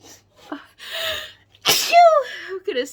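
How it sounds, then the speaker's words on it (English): A person sneezes forcefully once with a sharp burst, surrounded by breathy inhales and gasps before and after, close and loud in a quiet room. "gonna sneeze over and over."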